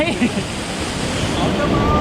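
A steady roar of falling water at Khao Chamao waterfall in Rayong, Thailand, broadband and continuous, with faint voices mixed in.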